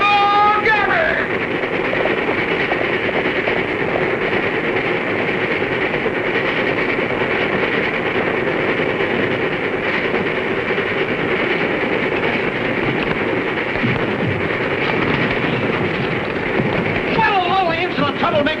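A 1939-era passenger train runs along rails with a steady, loud rumble and rhythmic clatter, whistle-like tones rising near the start and end, and a voice speaking faintly under the noise.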